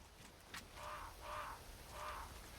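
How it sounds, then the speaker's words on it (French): Crows caw in the Resident Evil 4 video game, three drawn-out harsh calls at a steady pace, moderately loud over a low ambient rumble. "c'est encore des cons de corbeaux"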